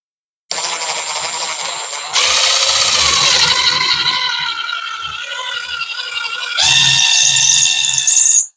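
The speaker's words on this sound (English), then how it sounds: "I'm just going to drill these out now." A power drill whines in several sustained bursts while drilling holes in a bedroom wall for a TV mount, its pitch rising and falling as it bites in, loud and close with brief pauses between runs.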